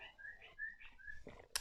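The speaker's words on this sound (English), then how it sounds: "there are birds making noise outside" Birds outdoors giving a series of thin whistled chirps, several short tonal calls in quick succession, faint and distant behind a quiet indoor room.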